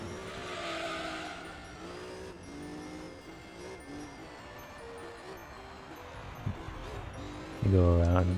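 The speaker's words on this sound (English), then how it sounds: "Nothing makes me think about Christmas than a TVR sliding around" A TVR sliding around a track in Gran Turismo, engine droning with rising and falling tones and a sustained tyre squeal, with a louder skid burst near the end under commentary.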